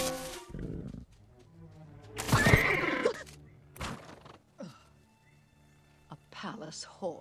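A palace horse whinnies loudly in a short burst in an animated film scene, mixed in with nearby talking and some rustling movement.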